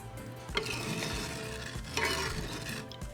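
Sugar and cinnamon stick syrup being stirred in a pot on the stove, with steady scraping and swirling strokes and a faint sizzle underneath, close and fairly quiet, with no talking.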